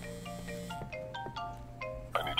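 A phone rings in a video game crime scene cleaning simulator, its electronic ringtone sounding as a repeated pattern of short bright tones over a low hum.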